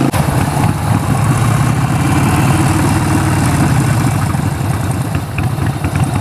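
A Harley-Davidson 48 Sportster engine rumbles steadily and loudly while riding, a deep, continuous V-twin drone with slight fluctuations and no speech.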